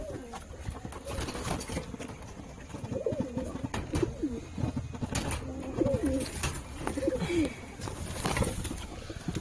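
Pigeons coo close by in repeated soft, throaty phrases, with brief wing flutters and rustling around them. No one speaks.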